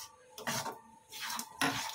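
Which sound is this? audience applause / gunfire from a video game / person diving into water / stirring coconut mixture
stirring coconut mixture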